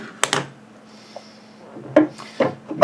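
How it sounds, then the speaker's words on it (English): Strong-magnet generator rotor being fitted onto its stator: a few sharp metallic clacks and knocks with quiet scraping in between, close and sparse. "I'm now going to assemble this rotor onto the stator and do a simple demonstration here."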